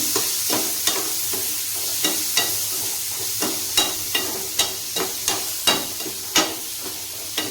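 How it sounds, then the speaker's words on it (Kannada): Cluster beans and chopped onions stir-frying in a pan for a palya, a steady close sizzle broken by regular spatula scrapes about every half second, with no voices. "ಇದು ಚೆನ್ನಾಗಿ ಫ್ರೈ ಆಗಲಿ."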